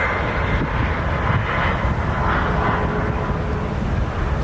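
Alaska Airlines jet in West Coast Wonders livery arriving from Seattle at Nashville airport, a steady, fairly loud engine rumble and whine throughout a short stretch, with no talk over it.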